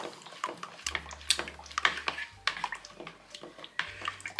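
Wallpaper paste is stirred in a bucket, producing repeated wet, sloshing strokes in an uneven rhythm, close and moderately loud.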